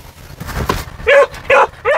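Border collie barking inside a moving car, three loud, close barks in quick succession after a brief stretch of low road noise.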